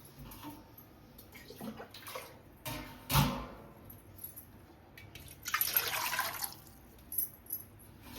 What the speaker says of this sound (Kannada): ಒಂದು ಎರಡೂವರೆ ಚೊಂಬು ಅಷ್ಟು ನೀರು ಹಾಕ್ತಾ ಇದ್ದೀವಿ ಇವಾಗ